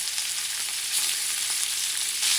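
Pork ribs sizzle steadily in a hot pan for Puerto Rican rice with pork ribs, a dense, even crackling hiss close by with no talk over it.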